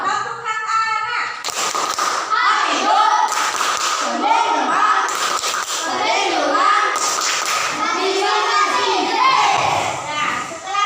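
A group of Indonesian schoolchildren in a classroom chant and clap together in bursts, with sharp rhythmic claps marking a lively, repeated cadence.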